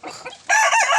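A large hybrid Peruvian rooster lets out a loud, close crow that swells in its second half after a brief softer lead-in, heard on its own.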